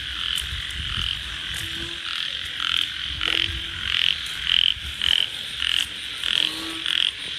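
Small frogs croak in a steady series of short, bright calls repeating about once or twice a second, close by and outdoors after rain, with a faint background chorus and no talking.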